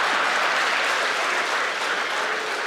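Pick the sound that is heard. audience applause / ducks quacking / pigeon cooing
audience applause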